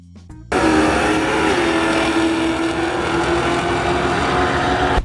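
A 1970 Oldsmobile 442 W30 muscle car with a 455 V8 fires up and settles into a loud, steady, rumbling idle. The engine is close, dense and roaring, runs continuously for several seconds, then cuts off abruptly.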